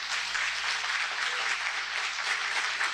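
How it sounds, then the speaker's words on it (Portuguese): Loud, sustained applause from a church congregation, with steady clapping filling the whole stretch and no voices standing out. "Aplauda bem forte ao Senhor."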